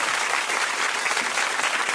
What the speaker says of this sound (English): And you even get the applause.